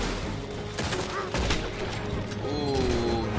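A few sharp gunshot cracks ring out amid the busy background of a Red Dead Redemption 2 shootout, with voices talking over the action.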